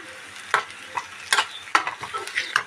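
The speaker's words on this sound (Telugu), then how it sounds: "చూడండి ఆనియన్స్ బాగా వేగాయి." Onions fry in a pan with a low sizzle, broken by several close scrapes and knocks of a spoon stirring them, with no voices.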